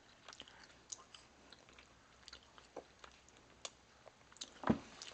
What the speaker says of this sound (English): A little bit hard to chew.